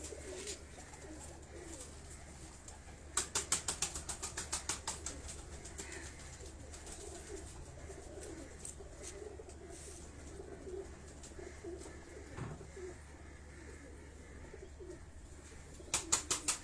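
Breeder and flying pigeons at a Karachi loft coo softly and repeatedly at a moderate distance. Two bursts of rapid clattering break through, one early and one at the end, over a steady low hum.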